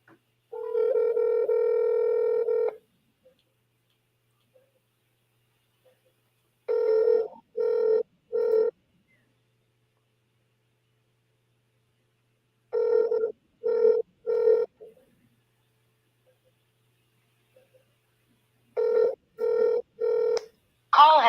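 A phone call's ringback tone sounds in repeated bursts, one long tone followed by groups of three short electronic rings, clear and steady with silent gaps between.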